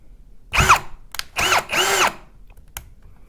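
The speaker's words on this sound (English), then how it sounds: "And then I can clamp this and then put the screw in." Power drill driving a screw into a clamped wooden rocker during furniture assembly, three close, loud bursts of whirring motor with a brief click between them.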